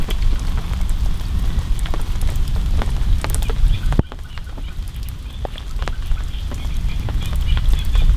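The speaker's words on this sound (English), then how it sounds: "Need this rain to let off." Steady heavy rain patters on a surface at a carp fishing lake in France, a loud, constant hiss with a sharp knock partway through and occasional goose honks or duck calls.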